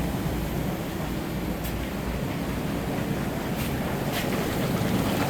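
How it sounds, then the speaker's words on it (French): Maple sap boils hard across a full evaporator pan, a steady, dense roiling rush with a broad hiss that stays constant throughout, close and fairly loud with no talking. "Ça bouille à gros bouillon en avant. Au creux de vague. Et jusqu'en arrière. Ça bouille pleine grandeur de la panne."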